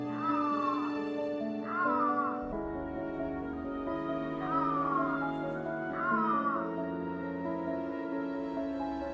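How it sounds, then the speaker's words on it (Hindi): An Iberian lynx calling in an Andalusian oak forest, four drawn-out, wavering cat-like wails repeated at intervals over a steady droning background. "दुनिया की सबसे डरावनी बिल्ली आइबेरियन लिंक्स की दहाड़ एक दहशत पैदा करती है।"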